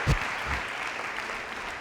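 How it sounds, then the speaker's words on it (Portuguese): A church congregation applauds the Lord during a sermon, a short burst of many hands clapping that begins with a sharp thump and settles into an even, moderately loud wash of applause. "Pode aplaudir o Senhor por isso?"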